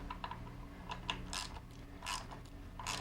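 A ratchet clicks in several short bursts while tightening bolts on the primary cover of a Softail motorcycle, close up and moderately loud over a low steady hum.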